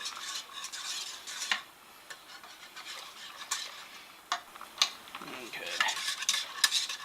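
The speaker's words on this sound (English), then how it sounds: "I just stir all that in, and it gets pretty thick" A flour mix is stirred into beef tips gravy as it thickens, giving repeated scraping and clinking spoon strokes against the pot over a quiet simmering hiss, with a brief spoken word.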